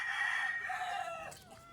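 A rooster crows once, loud and close, the call held steady then trailing off into a short fading tail.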